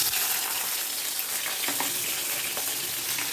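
Chopped onions fry in oil in a kadai, a dense, steady hiss and crackle with faint stirring ticks, close and constant throughout the short stretch.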